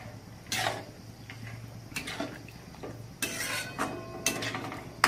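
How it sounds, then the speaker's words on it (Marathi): Mutton biryani with chopped coriander being stirred in a pot, a spoon scraping and knocking against the metal in a few separate close strokes over a low steady background hum. "याला मस्त असं हलवून घेऊ"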